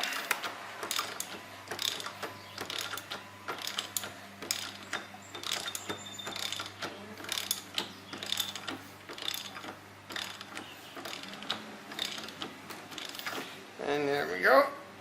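A ratchet tightening the wheel hub of a Vespa GTV-300 scooter, repeated rapid clicking bursts in uneven strokes, close up, with a short squeak near the end.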